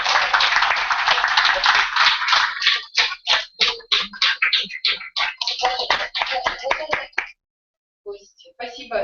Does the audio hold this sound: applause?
yes